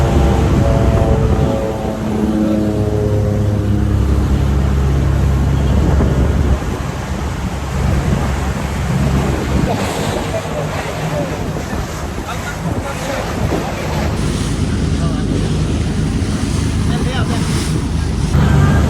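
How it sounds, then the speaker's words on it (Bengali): A boat setting off on the sea in the Maldives or Sri Lanka, a low engine rumble with rushing water and heavy wind buffeting the microphone, loud and close throughout. "আমাদের বোট রওনা দিয়ে দিছে"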